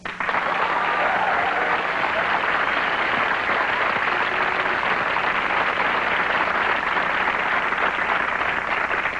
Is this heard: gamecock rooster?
no